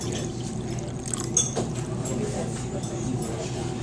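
Distilled water pours steadily into a container in a copper chemistry lab, a continuous splashing hiss held at an even level throughout.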